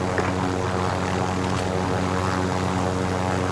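Steady droning rotor and engine of a helicopter in the battle royale mode of the video game Call of Duty Modern Warfare, loud and continuous throughout with no pauses or voices.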